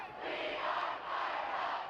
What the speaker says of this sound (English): You hear the Brookings crowd getting it going